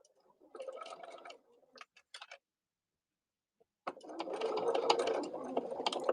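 A sewing machine stitches a scrap-fabric pin cushion in two bursts, a short run and then a longer steady whir of rapid needle strokes, close up, with a few clicks between them.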